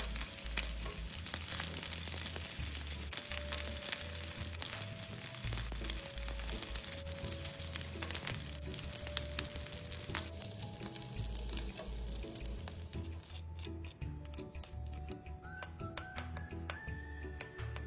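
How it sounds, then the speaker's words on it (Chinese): Glutinous rice rolls pan-frying in hot oil until both sides brown, giving a continuous close crackling sizzle with scattered pops and spatters and occasional light stirring clatter throughout. "煎至两面微微焦香"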